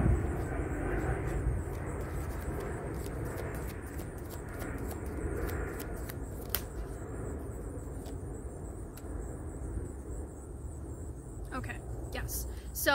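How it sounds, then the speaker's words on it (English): An airplane passes overhead with a broad, steady engine rumble that dominates throughout, while a faint high ticking or chirping pattern sits above it and brief clicks appear near the end. "The airplane's being a bit loud, so let me draw you a few more cards while that's going overhead."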